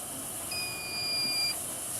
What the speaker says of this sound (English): And it beeps. And that locks it in for it to maintain that temperature.